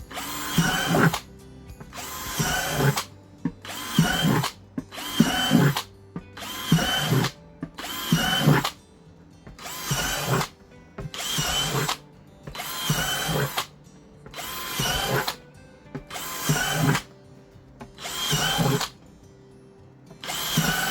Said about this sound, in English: As you can see, my girly drill isn't that awesome.